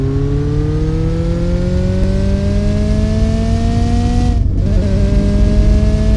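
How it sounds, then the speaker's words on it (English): An older car with no traction control accelerates hard on a drive in Southwest Florida, its engine note climbing steadily in pitch, then dipping briefly at a gear change before rising again, loud and close with no talk. "listen to this beautiful engine sound."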